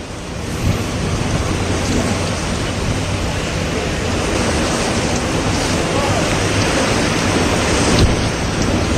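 Heavy monsoon rain pours down in Delhi-NCR as a dense, loud, unbroken roar of broadband noise that fills all nine seconds, with a brief thump near the end.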